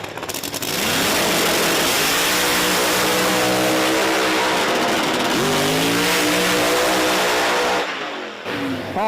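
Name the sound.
drag racing cars launching down the strip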